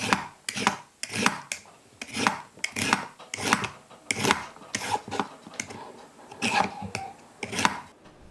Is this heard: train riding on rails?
no